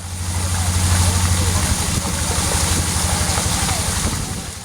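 A water pump engine runs loudly and steadily beside a reservoir, its continuous low mechanical drone overlaid by rushing water, and the pitch shifts slightly partway through.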